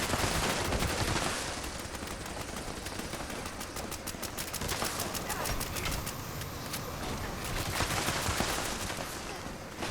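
Rapid bursts of gunfire fill Fallout 76 during the Mothman Equinox event, clattering repeatedly over a dense, noisy mix of game sounds that runs the whole stretch.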